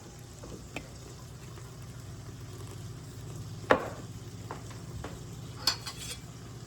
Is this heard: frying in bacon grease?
yes